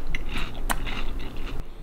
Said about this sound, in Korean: 치킨을 먹는데 어떻게 안 쩝쩝거려요, 그럼?